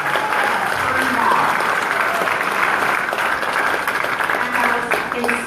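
A town hall crowd in Claremont with a congresswoman claps in a sustained, close, fairly loud burst of applause, with voices mixed in underneath throughout.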